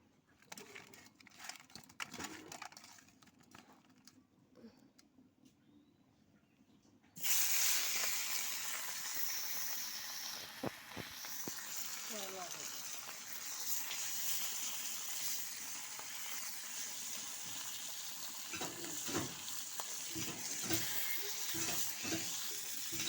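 Fish frying in a pan: after several quiet seconds of faint background activity, a loud, dense sizzle erupts and continues steadily, with occasional stirring and clatter.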